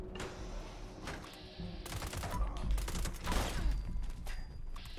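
Rapid bursts of 10mm pistol fire in Fallout 76 crack out in quick succession, loud and close, with brief gaps between volleys and mechanical clatter mixed in.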